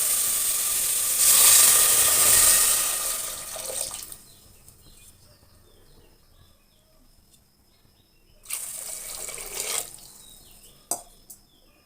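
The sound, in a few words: water being added to sambar in a pressure cooker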